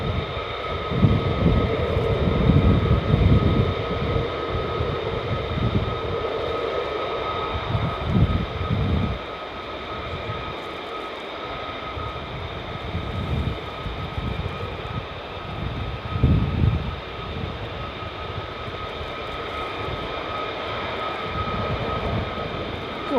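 F-15 Strike Eagle jets at RAF Lakenheath, with a loud, steady broadband jet roar that swells and rumbles through the low end, holding a sustained whine above it for the whole stretch.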